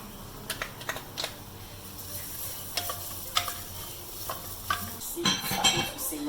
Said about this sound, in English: See it starting to simmer, going to boil up.